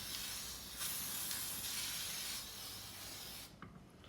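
Silver spray paint hisses steadily from an aerosol can, a loud continuous spray lasting several seconds before cutting off near the end.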